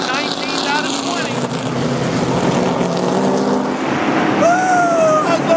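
Race car engines idling and revving at the starting line at Myrtle Beach, a loud continuous throbbing roar with a rising engine whine near the end and voices mixed in.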